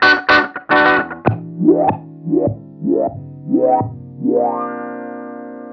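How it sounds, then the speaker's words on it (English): A Beetronics Zzombee Filtremulator in inverted ramp mode sweeps a distorted guitar through a filter, with a few hard opening strums followed by five repeated rising swoops and a final sustained chord, loud and without voices. "Let's hear what this ramping inverted is gonna sound like"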